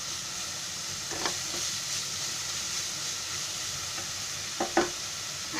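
Masala with tomato paste stirred in a hot pan for palak paneer gravy, giving a soft steady sizzle with a few faint scraping clinks of the spoon near the end, no voices.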